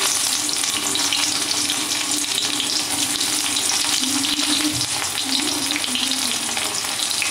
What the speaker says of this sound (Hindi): जीरा गुड़ा ये फुटी जाइए कटा पियाज पकईदेवी।